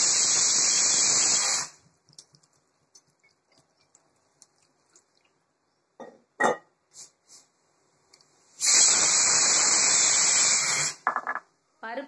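A pressure cooker loaded with sambar ingredients, raw mango among them, lets off two loud, sustained steam hisses of several seconds each, with a quiet stretch between them broken only by faint clicks.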